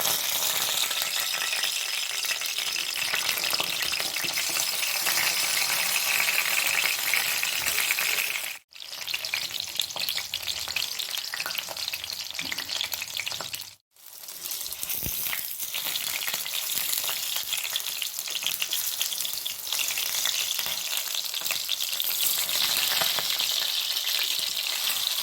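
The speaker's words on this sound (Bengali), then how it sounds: "তেল গরম হয়ে গেছে, এর মধ্যে একে একে বেগুনগুলো দিয়ে দেবো।" Brinjal (eggplant) pieces fry in about a cup of hot oil, a dense, steady, close sizzle and crackle that runs almost unbroken, dipping briefly twice, with no talking.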